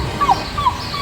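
A turkey gobbles in several quick, warbling bursts, close and moderately loud against a faint background.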